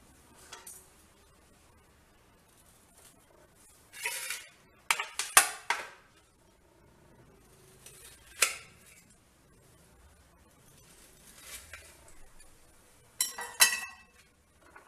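A utensil cuts into soft tender coconut pudding in a kitchen with sparse, faint clinks and scrapes against a dish, arriving in short clusters separated by quiet stretches.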